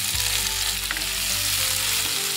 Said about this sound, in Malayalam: കുറച്ച് കറിവേപ്പില ഇട്ട് കൊടുക്കാം ഇത് കുറച്ച് ചെറിയുള്ളിയാണ്